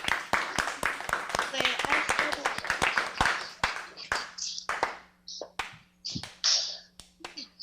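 Members of a teen acting class clap for a classmate: a burst of sharp, close handclaps that thins out into scattered claps, with voices talking over the tail end.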